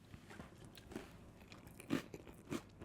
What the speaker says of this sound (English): That was a good crunch.